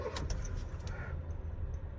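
A 2014 Honda Amaze car with about 1 lakh km on it starts up, a short starter crank followed by a steady low engine idle, close by with no talking.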